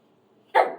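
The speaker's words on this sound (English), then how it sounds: "Sorry about the dog." Dog giving a single sharp bark, loud and close, after near-silence with only a faint low murmur before it.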